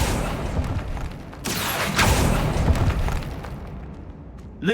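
Accio spell cast in Hogwarts Legacy inside a tomb: a loud, magical whooshing burst that swells and rolls on for a few seconds, ending in a short bright shimmer.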